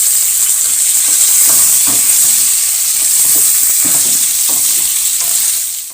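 Chicken with garlic, ginger and onion sizzles and fries loudly in a pan with a constant bright hiss, with occasional stirring scrapes and no talking.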